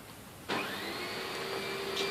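A vacuum cleaner switches on abruptly after a moment of quiet and keeps running with a steady whine and rushing hum.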